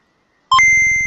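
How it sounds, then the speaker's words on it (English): Synthetic computer beeps from a game show's calculating computer: a short rising pair of electronic tones, then a sustained steady beep that holds loud and clean after a moment of silence. "Calculating computer activated. Computers. Beeps. Space. Boops."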